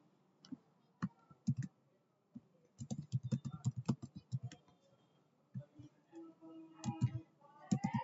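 A computer keyboard clatters as an SQL query is typed, quiet bursts of rapid key clicks with short pauses between words, close and soft.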